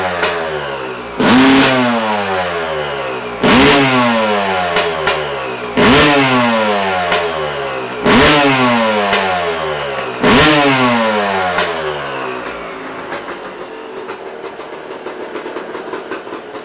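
A freshly rebuilt Yamaha YZ250 two-stroke motorcycle fires up on its first start and revs in five sharp bursts, each rising and falling back to a low idle, loud and close, then settles into a rough idle.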